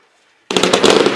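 A Hamburg firework battery fires its shots after brief near-silence, a dense crackling rapid burst of bangs ringing out loud.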